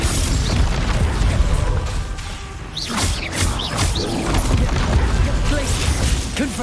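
Spell blasts from Confringo in Hogwarts Legacy, played on hard mode, boom and burst repeatedly through dense game combat noise, loud and continuous with crackling impacts and a voice calling out spell names over them.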